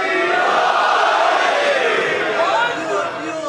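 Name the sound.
crowd chanting loud religious slogans at a majlis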